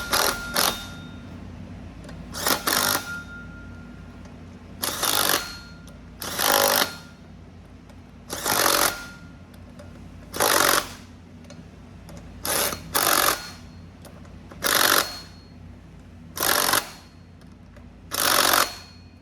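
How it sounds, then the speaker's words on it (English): An impact wrench with a T60 bit snugs flywheel bolts on a 2009 BMW 335xi during clutch work, firing about a dozen short, sharp rattling bursts in a loose rhythm, close and clear against a quiet workshop background. "So you take the T60 bit just to snug it up with an impact"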